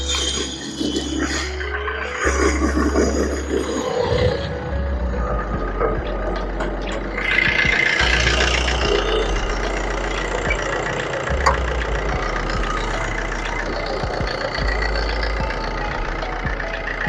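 A 2008 Maruti Swift VDI diesel engine idles steadily for about seventeen seconds, a continuous low rumble with faint clatter and some background noise, no voices.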